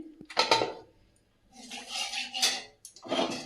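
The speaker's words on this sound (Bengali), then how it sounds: "কড়াই দিয়ে দিয়েছি তেল" A wok with oil is set down on a stove, giving a few close metallic clanks and scrapes separated by short pauses, fairly quiet overall.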